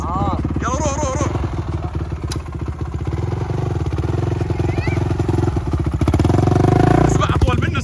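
Motorbike revving and puttering close by as it is ridden at a camp, engine rising and falling under excited voices and shouting.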